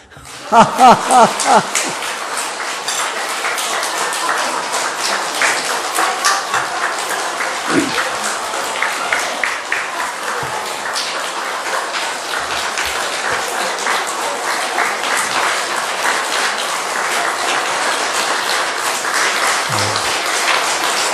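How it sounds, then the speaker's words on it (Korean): A church congregation claps loudly together, starting with a few sharp rhythmic claps and then swelling into sustained, dense applause with scattered laughter and voices mixed in. "옆에 사람하고 15초 동안 큰 소리로 박수 치면서 시작"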